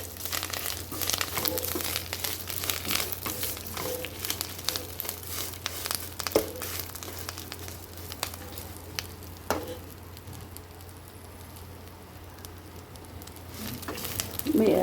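Curry leaves frying in oil in a pan over low-to-medium flame give a steady crackling sizzle with scattered pops and stirring scrapes, close and continuous, the hiss easing somewhat toward the end.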